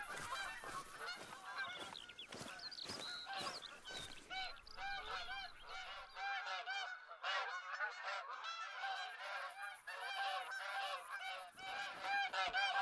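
A flock of geese honking in a hunting game, repeated overlapping nasal calls in irregular bursts, some close and loud, others thinner and farther off, with no voices.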